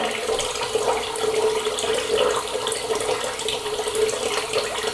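Tap water runs steadily into a sink for rinsing off after a shave with a double-edge razor and shave cream, a continuous close splashing hiss with no talking.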